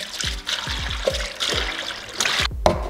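Engine coolant glugs from a bottle into a big bucket, a choppy run of gurgling splashes with air burping back through the neck and a few louder sloshes.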